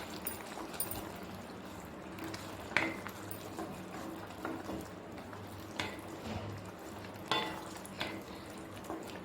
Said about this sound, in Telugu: ఇప్పుడు ఇది ఒకసారి నీట్గా కలుపుతాము